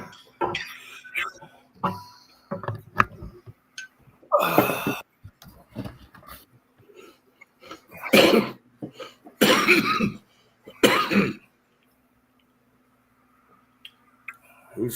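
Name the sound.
cough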